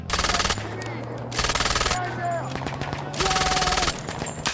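Bursts of automatic gunfire during an army field exercise, three long sustained volleys of rapid shots separated by short pauses, loud and close with outdoor background noise.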